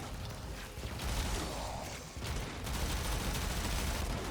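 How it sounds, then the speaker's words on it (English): Dense, sustained gunfire and explosions from the sci-fi shooter Warframe, loud and continuous with a brief dip midway before the barrage resumes at full intensity. "A lot of explosions there."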